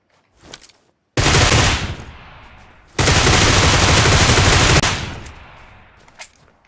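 Groza rifle fire in PUBG Lite, two long sustained full-auto bursts, loud and dense, the second running nearly two seconds before tapering off, with faint softer sounds before and after.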